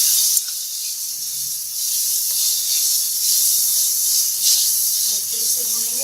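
Chicken frying with salt, crushed black pepper and crushed red chili in a pan, a steady bright sizzle and hiss throughout, with a brief voice near the end.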